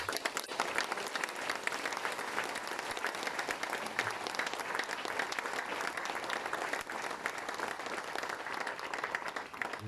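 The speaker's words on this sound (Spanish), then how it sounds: "les invito a darle un aplauso a la santa palabra de Dios" A church congregation applauds at a homily, honoring the word of God: dense, steady clapping from many hands fills the whole stretch at an even, sustained level with no voices breaking through.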